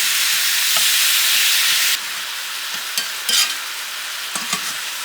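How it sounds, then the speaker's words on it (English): Apple pieces fry in a pan while a spatula stirs them, a bright crackling sizzle that drops in intensity partway through, punctuated by sharp scraping and tapping strokes. "Just keep stirring them around."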